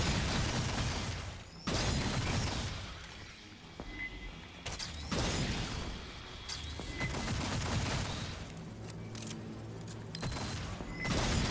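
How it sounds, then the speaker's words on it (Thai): Gunfire in the sci-fi shooter video game Aliens: Fireteam, repeated bursts of rapid shots separated by short lulls, moderately loud, with metallic mechanical clanks and high electronic beeps between volleys. "เสียงปืน"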